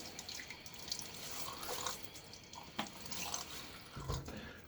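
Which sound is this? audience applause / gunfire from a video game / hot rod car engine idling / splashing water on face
splashing water on face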